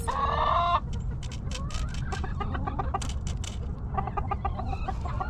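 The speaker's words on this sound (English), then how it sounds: "as you can see, chickens can just come and drink from these." Chickens clucking nearby in short repeated bursts at a drinker in their yard, with a rooster's crow at the start, over a low rumbling background.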